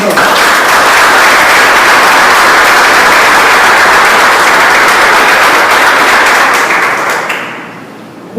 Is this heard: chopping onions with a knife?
no